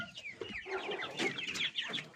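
A hen clucks in quick, uneven bursts close by in a backyard coop where ducks and chickens lay eggs, no talk over it.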